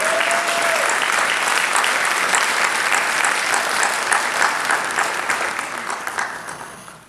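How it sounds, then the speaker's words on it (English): An audience at a Martin Luther King Day event applauds, a dense, loud, sustained clapping that starts at once and tapers off over about seven seconds. "Let's give State Representative a thank you and a round of applause for CDA, Charleston Development."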